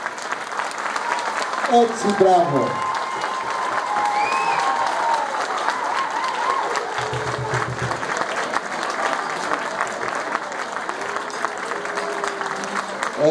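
Sustained applause from an audience at a Panhellenic school choir meeting, a dense crowd clapping steadily throughout, with voices and a brief spoken comment on top.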